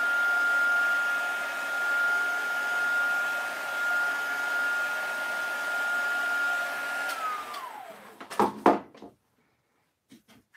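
Handheld heat tool drying a Chalk Couture chalk transfer silkscreen: a loud, steady blowing whine that spins down after several seconds, followed by a few close handling knocks and then quiet.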